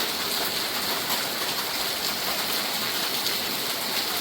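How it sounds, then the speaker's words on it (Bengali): A steady, dense hiss of heavy rain pouring down without pause, loud and even throughout. "সকাল থেকে প্রচণ্ড পরিমাণ বৃষ্টি"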